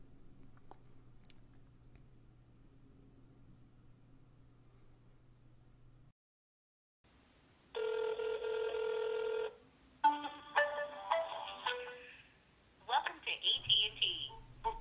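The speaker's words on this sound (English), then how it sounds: "Let's make a phone call to our friends over at AT&T this time." An iPhone places a call to AT&T. Ringing and dialing tones come through in bursts after a quiet stretch. Before that there is a low steady hum.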